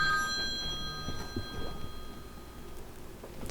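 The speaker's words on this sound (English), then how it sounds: "I just gotta stop that phone from ringing" A telephone rings indoors, its faint repeated bell tones fading out early over quiet room noise.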